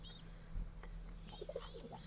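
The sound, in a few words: pigeons cooing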